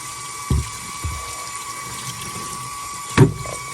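Water rinses the outside of an aFe Pro 5R air filter from a 2019 F-150. A constant spray hiss runs throughout, broken by a few short splashy bursts near the start and a louder one near the end. No voices are heard.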